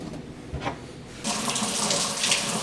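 Water runs from a newly installed faucet into a sink, switching on after a quiet second and then pouring as a steady, close rush.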